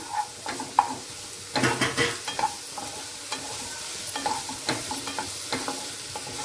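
Freshly made ginger garlic paste frying in a little oil, a soft steady sizzle broken by frequent stirring scrapes and spoon clicks, close and moderately loud with no talking.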